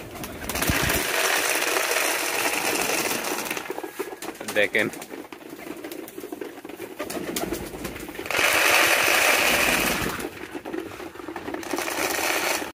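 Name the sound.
Peshawari pigeons cooing in a pigeon farm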